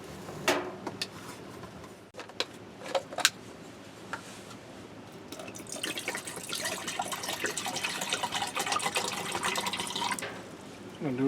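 Water running from a tap into a metal pot, starting with scattered clinks and knocks, then a steady loud splashing fill for several seconds before stopping.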